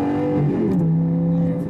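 Lamborghini supercar with an aftermarket exhaust in auto mode, valves opening: a loud, steady engine drone with strong low harmonics that shifts pitch as the revs climb, close by with no talk.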